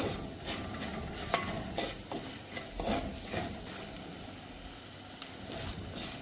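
Turmeric powder being sautéed in a pan for a Kerala-style mackerel fish curry, a soft continuous sizzle under repeated scraping stirs of a spoon, close up with no voices.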